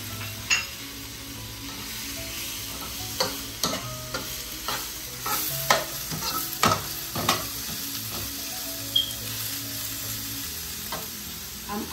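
Scallions and noodles are stir-fried in a hot pan, with a steady sizzle under repeated scraping and clacking strokes of the utensil against the pan at an irregular rhythm, close and clear with no talking.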